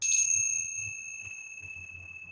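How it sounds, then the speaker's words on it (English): Tibetan chimes ring once with a bright clear strike, then the pure tones hang and slowly fade over a soft low background. "And I also love the chimes."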